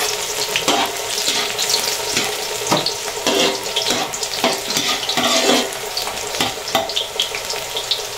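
Garlic sizzles and crackles in a pan, with steady frying broken by clinks and stirring, close and loud with no talking.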